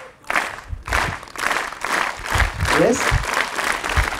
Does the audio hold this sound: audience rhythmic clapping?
yes